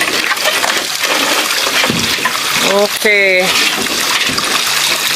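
Irrigation water spills over the rim of a full drum in a country yard, a steady rushing pour under close outdoor noise, with a voice briefly speaking partway through.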